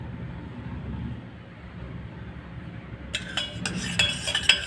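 A spoon stirs honey into a mixture: quiet low rumbling at first, then light metallic clinks and scrapes of the spoon against a bowl, growing busier and slightly louder toward the end.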